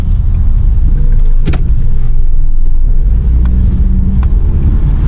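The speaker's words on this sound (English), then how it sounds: "Sounds like it has an exhaust leak." A Saturn Vue engine with an exhaust leak and misfire rumbles steadily up close with a rough, raspy exhaust tone and a few sharp clicks.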